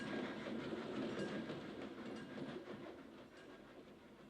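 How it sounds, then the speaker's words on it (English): An express train arriving, rumbling along with rhythmic clatter of wheels on track, loud at first and gradually easing off, no voices. "Right on schedule. The Madrid Express. 20 minutes late."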